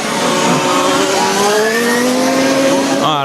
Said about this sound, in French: C'est la voiture numéro 8 avec la carrosserie rose qui est dans la partie centrale du circuit